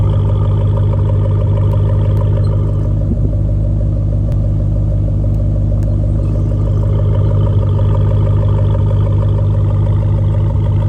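Jeep Trackhawk V8 rumbling with its exhaust valves open, a deep, loud, steady idle heard close, with no clear rev rising out of it.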